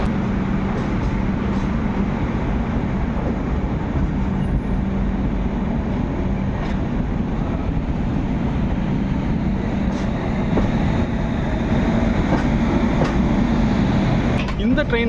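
A continuous rumbling drone from inside the moving Mandovi Express passenger train between Mumbai and Goa, in a 3 AC coach, with rattling and clacks over the steady noise and a voice talking throughout.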